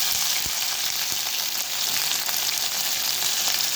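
Cumin, mustard seeds and garlic crackling in hot oil for a tempering, a dense continuous sizzle with a few sharp pops, close and loud throughout with no talk.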